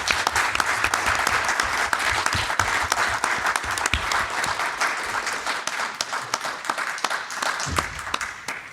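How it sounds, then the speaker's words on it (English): Audience applause for Vivien Lyra Blair at a live fan event at Celebration Europe 2023, a sustained, dense roar of clapping from a large crowd, close and loud throughout. "can everybody give Vivien a massive round of applause"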